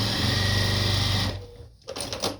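A sewing machine runs a steady, close, buzzing stitch along the shoulder seam of a small apron for about a second, then stops, leaving a few soft handling noises.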